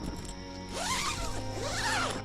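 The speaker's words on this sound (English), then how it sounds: "Zip this up." The zipper on a tree tent is pulled shut in two quick rasping strokes, close and crisp, with a brief pause between them and no talk.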